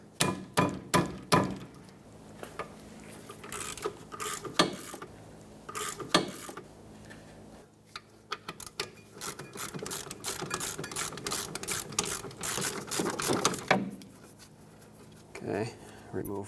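A ratchet works loose a 17mm brake caliper bolt on the rear of a 1998-2005 Lexus GS300, giving sharp bursts of close clicking and metallic taps, then a long run of rapid ratcheting, with someone talking between strokes.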